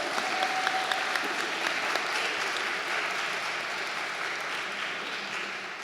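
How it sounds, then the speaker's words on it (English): An audience applauds a speaker introduced at a panel on rainforests and climate: full, continuous clapping that holds steady and fades slightly toward the end. "Please give a round of applause."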